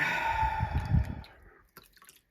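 Water drips from a small object being wetted while a 1989 Batmobile model part is assembled, a brief close wet patter fading after about a second and a half, followed by a couple of faint taps.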